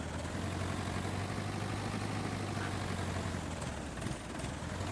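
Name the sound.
tractor engine in video game Farming Simulator 22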